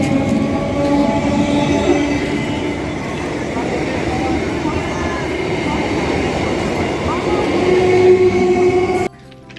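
A train rumbles and clatters at Baichi railway station, near the Hooghly–Bardhaman border. The sound is steady and close, with a brief tonal whine near the end, and someone talks over it.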